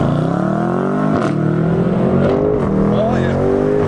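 A 2019 BMW M850i xDrive Convertible engine roars steadily as it accelerates, pitch climbing in a sustained, loud drone heard from close inside or beside the vehicle.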